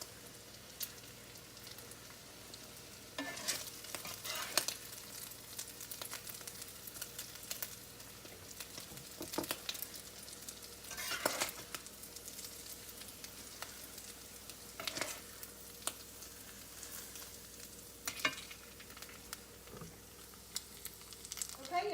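Tuna patties frying in a pan give a steady close sizzle with occasional sharper crackles and spatula scrapes at irregular intervals, a voice faintly present in the background.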